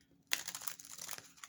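A deck of Oracle of Light & Dreams cards from US Games, printed on matte cardstock, shuffled close by: a sudden crisp riffle of crinkly, papery flutters after a brief quiet, continuing unevenly to the end.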